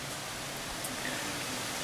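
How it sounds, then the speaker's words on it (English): Steady drizzly autumn rain falls in a soft, even hiss with no breaks, close and continuous. "Nice little steady drizzly rain falling."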